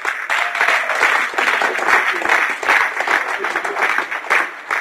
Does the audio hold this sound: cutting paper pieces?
no